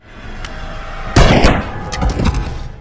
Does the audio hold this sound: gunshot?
yes